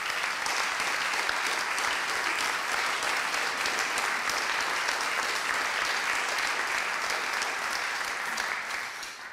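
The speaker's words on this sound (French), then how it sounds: "On peut l'applaudir très très fort." Sustained applause from a congress audience honoring a long career at the 50th-anniversary gathering of the FFEA, a dense, steady wash of many hands clapping for several seconds, tapering slightly at the end.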